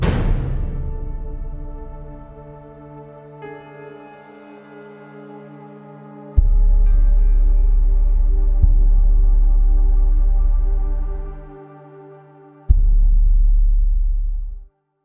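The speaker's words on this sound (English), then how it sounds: "where you hear those booms, they were the cut points for the actual action sequence" Deep, compressed cinematic booms from the ProjectSAM Wild Winds library mark cuts in an action sequence: a decaying tonal hit, then two heavy sustained low booms with a sharp attack at about 6 and 13 seconds, each ringing several seconds.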